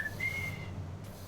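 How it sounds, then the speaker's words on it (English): A person whistles into a microphone: a short, thin rising whistle followed by a longer sustained note, over a steady low background hum. "I can't whistle with my head turned"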